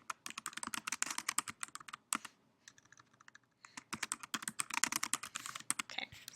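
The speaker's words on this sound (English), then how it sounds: "let's type something" Rapid clattering keystrokes on a computer keyboard, close and steady, with a brief pause midway before the typing resumes at the same brisk pace.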